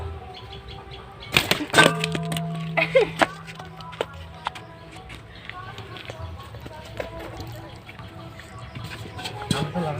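A large freshly caught snakehead fish from a village pond flopping and slapping, a few sharp thudding bursts with quieter taps between, while people talk nearby.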